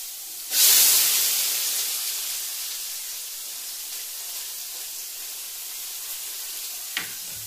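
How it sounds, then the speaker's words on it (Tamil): Onions tipped into hot oil with crackling mustard seeds in a pan give a sudden loud burst of sizzle that gradually fades into a softer steady hiss, with a small clink near the end. "இந்த சைடு வந்து கடுகு கொதிச்சு வெங்காயம் சேர்க்கலாம்."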